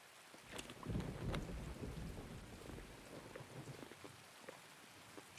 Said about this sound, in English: Can't hear anything because of the epoxy rain.